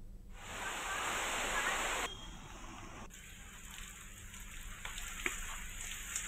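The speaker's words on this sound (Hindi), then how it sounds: "मुंगेली में झमाझम बारिश का दौर जारी है।" Heavy rain pours down in Mungeli, Chhattisgarh, a dense, loud hiss for the first two seconds that then eases to a softer, steady patter with a few scattered drips.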